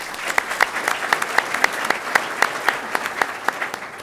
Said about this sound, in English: Round of applause for Matt.